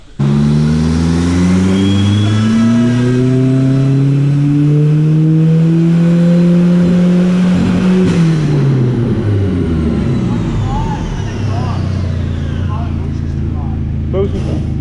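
Turbocharged car engine revving hard under boost, loud and close, its pitch climbing steadily for several seconds before dropping off into a rough, sputtering idle while a voice talks over it.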